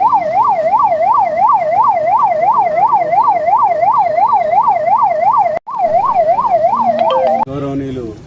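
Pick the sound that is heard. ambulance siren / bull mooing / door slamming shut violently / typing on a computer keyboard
ambulance siren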